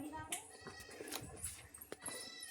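A goat out grazing bleats faintly amid quiet outdoor noise, with a few sharp clicks and knocks, and a voice murmurs in the background.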